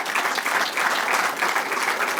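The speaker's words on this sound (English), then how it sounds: "just give everybody a round of applause that's here" Steady, dense applause from an audience at a summer press conference honoring law enforcement officers, many hands clapping evenly and loudly throughout with no talk.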